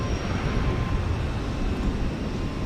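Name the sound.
Airbus A320 airliner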